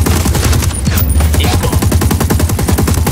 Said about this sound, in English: Opening fire. Fire.